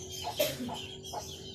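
Bricks, a pet chicken, clucking in the early morning: a few short, soft clucks close by over a low background hum.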